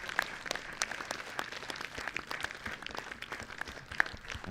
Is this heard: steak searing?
no